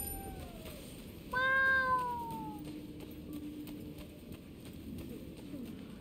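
A cat in Rise of the Ronin gives a single clear, drawn-out meow over quiet in-game ambience, then the scene settles back to a low background murmur.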